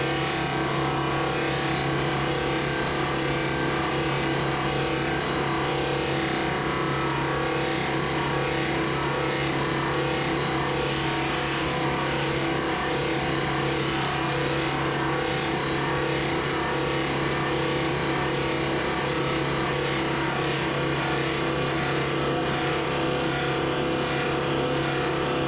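A rotary sanding and polishing machine runs steadily on a car's paintwork at slowed wheel speed, giving a constant, loud motor whine and a grinding hum that stay unbroken for the full length.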